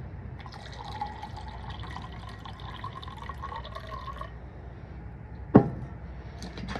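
Water trickles and drips steadily while someone cooks on a balcony, faint and close, ending around the middle with a sharp knock or clatter shortly after.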